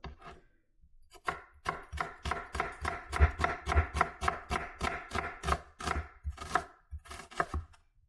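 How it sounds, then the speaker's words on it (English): A knife chops onion on a cutting board, giving a run of quick, evenly spaced, close taps that continue for several seconds without speech. "We have a little bit of onion. I have to use onion for everything."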